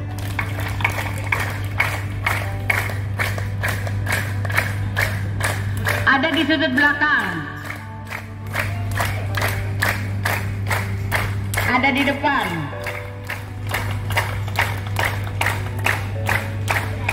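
Large seated audience clapping in unison during a health-clap exercise, a steady fast rhythm of many hands striking together, loud and continuous, with a voice speaking over the claps through a microphone.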